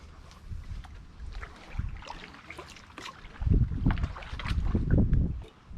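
Wind gusting through a mangrove trail in the Everglades while kayaking, a steady rushing hiss that swells into heavier low buffeting toward the end.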